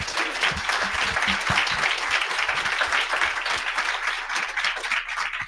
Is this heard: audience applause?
yes